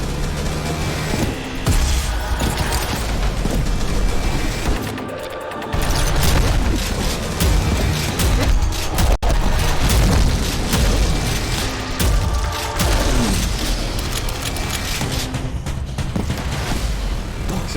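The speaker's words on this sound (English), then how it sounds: "Yes, that's the rocket launcher." Rocket launcher blasts in the shooter Prodeus on ultra-hard difficulty, a dense run of loud booming explosions and crashes lasting throughout, with one brief lull midway.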